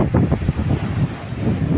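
Strong wind buffeting the microphone on a seashore with heavy waves, a loud rumbling roar with gusty low thumps throughout and no voices.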